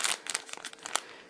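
A plastic packet holding 50 mm metal rings for bag handles is torn and pulled open with close, bursty crinkling and rustling, quiet overall and without talk.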